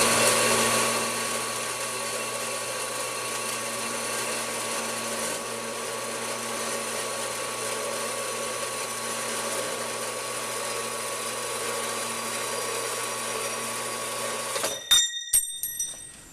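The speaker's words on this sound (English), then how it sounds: "I've got about a 2-inch section turned" An Atlas 7B metal lathe turns rough stock in a steady, humming run with a constant tone for about fifteen seconds, then stops with a few clunks.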